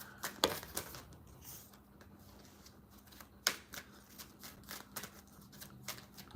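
Quick papery riffling and soft tapping bursts, several in a row, close and fairly quiet, as a deck of cards is shuffled.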